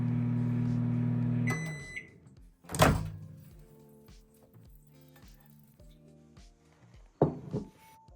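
A microwave oven heating a bowl of oil hums steadily, then stops with a beep. A loud thunk of the door follows, then quieter clicks and a few more thuds and knocks.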